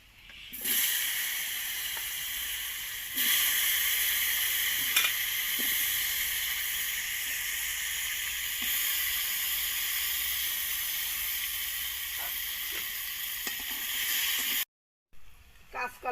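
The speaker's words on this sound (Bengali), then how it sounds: "এইবার এই তেলের ভিতর কাঁচকলা দিয়ে দেবো।" Green banana fries in hot oil in a pan, an even, close sizzling hiss that holds steady with a few soft knocks and cuts out briefly near the end.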